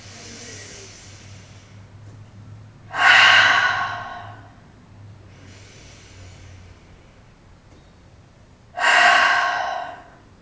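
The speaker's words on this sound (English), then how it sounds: "I'm going to take a couple more breaths here. Big deep breath out." Two loud, deep breaths during a yoga flow, each a rushing airy exhale of about a second, spaced several seconds apart with softer breathing and quiet in between; no talking.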